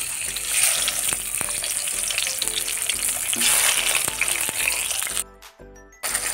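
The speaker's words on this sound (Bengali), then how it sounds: "আর মাছগুলোকে ছেড়ে দিচ্ছি" Fish sliding into hot oil in a pan, producing a loud, close, continuous sizzle with sharp crackles and spatters, cut briefly by a short near-silent gap near the end.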